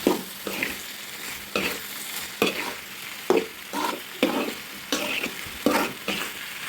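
A vegetable bhaji stir-fries in a pan, a spatula scraping and tossing in a steady rhythm of strokes over a constant sizzle, close and clear with no talking.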